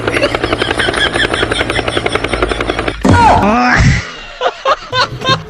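Helicopter rotor chopping in a steady fast rhythm for about three seconds, fairly loud, before voices talk over the fading hum.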